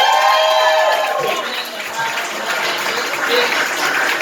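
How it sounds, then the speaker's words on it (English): Applause and crowd noise from a comedy show audience, a broad continuous roar that swells at the start and then holds fairly loud. A voice talks over it early on. "let's just give a round of applause for everything about this."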